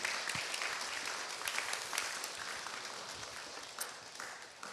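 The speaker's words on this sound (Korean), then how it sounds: "우리 사윤님께 다시 한번 응원의 큰 박수 한번 부탁드리도록 하겠습니다" An audience claps for a guest at a Korean trauma-healing event, a steady, moderately faint wash of applause with scattered sharper claps across the whole stretch, no talk over it.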